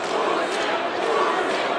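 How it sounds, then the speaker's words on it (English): A boxing arena crowd chanting during the Usyk versus Dubois fight, a dense rumbling roar of many voices that holds steady and fills the space, with a commentator's voice mixed in. "the crowd are chanting the IQ of the Ukrainian wizard"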